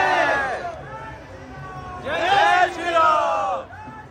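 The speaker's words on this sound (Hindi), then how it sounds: "जबरदस्त भीड़ है यार, देखो तो आज तो बाहर से ही दर्शन करने पड़ेंगे लग रहा है" A large crowd of temple visitors on Hanuman Jayanti chants and shouts together in loud, rising and falling bursts, with background crowd murmur between the calls.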